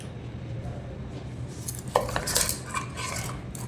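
Goat trotters being mixed with sunflower oil in a metal vessel, with a soft background hum, then scraping clinks and knocks of a utensil against the pot in the second half.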